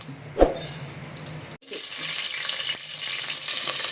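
Cumin and mustard seeds hitting hot cooking oil set off a sudden, steady crackling sizzle that continues close and loud after a brief clatter from the pan.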